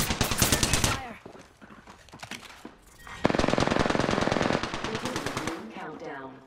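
Rapid automatic gunfire from the video game Apex Legends, with dense bursts of fast, loud shots separated by short pauses and a voice talking briefly between them.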